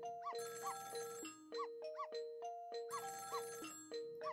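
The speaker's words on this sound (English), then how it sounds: "It was the sound of a telephone ringing, coming from the apartment next door." Repeating electronic phone ring from the Ghost Trick video game, coming from the apartment next door: a looping synthesized two-tone chime pattern, steady and moderately loud, playing alone with no talk.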